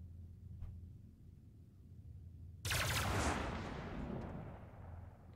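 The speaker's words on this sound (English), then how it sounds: "that's me just firing off a couple shots for show" A turret on a Hammerhead ship in the Star Citizen space game lets off a single loud, booming shot with a long rumbling decay after a few seconds of low, quiet ambience.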